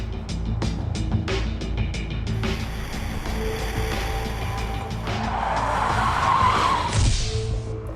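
A car skids while turning around during a driving drill, its engine rumbling throughout and tires screeching loudly near the end over steady road noise.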